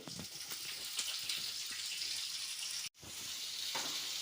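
Onions and cumin seeds fry in hot oil, giving a steady, fairly loud sizzling hiss that runs throughout, broken by one brief gap near the end. No voices.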